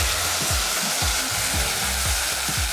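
Vegetable stock is poured into a hot pan of brown rice, raising a loud, steady sizzle and bubbling hiss that stays close and continuous.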